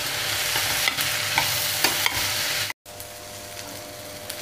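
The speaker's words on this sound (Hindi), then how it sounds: "टमाटर को भी एक आध 2 मिनट तक भूनूंगी" Tomatoes fry and are stirred with rice, black chickpeas and potatoes for a tahari, giving a steady close sizzle with periodic scraping strokes and a brief silent gap partway through.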